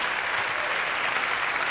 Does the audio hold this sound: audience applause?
yes